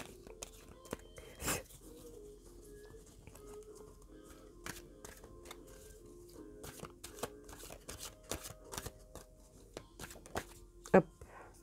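Tarot cards being laid out and handled on a table, giving soft repeated snaps and shuffling rustles close by while a person talks intermittently over them.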